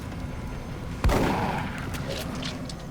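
A single sharp gunshot in the tactical video game Long War (Brutal difficulty), loud and close with a short decaying tail over a quiet background.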